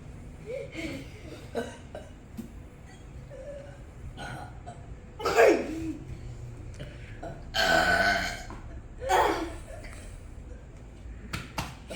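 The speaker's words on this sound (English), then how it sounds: "You guys doing burp competition?" Loud burps erupt one after another at a kids' burp competition, the biggest around the middle, with short pauses and faint chatter in between.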